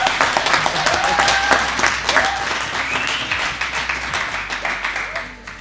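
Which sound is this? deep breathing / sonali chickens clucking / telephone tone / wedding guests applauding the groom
wedding guests applauding the groom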